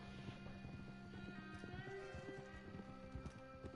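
Horse hooves clip-clop steadily at a gallop in Red Dead Redemption 2, with a brief whinny partway through, all at a moderate, close distance.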